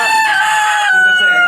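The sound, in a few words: Brahma chickens clucking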